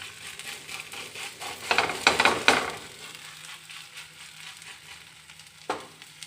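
Mixture pressed inside a plantain leaf sizzles and crackles on a hot tawa, with a loud burst of frying in the middle, softer steady sizzle around it and a sharp crackle near the end.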